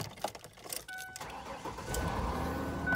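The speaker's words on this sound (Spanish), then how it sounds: "ahora lo que vamos a hacer es prender la camioneta" A Ford Explorer SUV cranks and starts after a few faint clicks and handling noises, then settles into a low, steady engine rumble close by.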